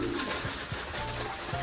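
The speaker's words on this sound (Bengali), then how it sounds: "এই যে ওপরে কিন্তু বসে আছে কয়েকটা পায়রা" Several pigeons perched overhead coo in soft, low, repeated calls, fairly close and on their own, with no talking.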